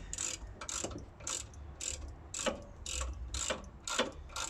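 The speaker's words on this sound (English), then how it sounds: "So we get this caliper carry off with a 12-point ratchet." A 12-point ratchet loosens a brake caliper carrier on a Land Rover Discovery 2 Td5, giving quiet, steady clicking strokes in a regular rhythm, about nine pulls, close up with no talking.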